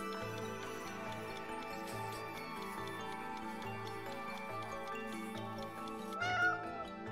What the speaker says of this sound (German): Ja, eine super schöne Katze.